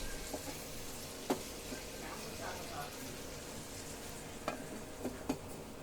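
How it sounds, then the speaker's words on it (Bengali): A spoon stirs an eggplant, potato and dried fish curry in a pan, giving a soft sizzle with a few sharp scrapes and clinks, while a voice talks faintly underneath. "আমি এগুলাকে একটু নেড়ে চেড়ে ঢাকনা দিয়ে দিব।"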